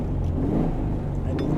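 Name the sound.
1963 Porsche 356 B engine revving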